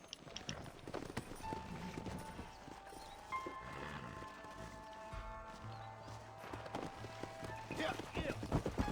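Horse hooves clip-clop steadily in the Red Dead Redemption game as the animal walks, a close rhythmic clatter with a brief whinny and scattered tones in the background.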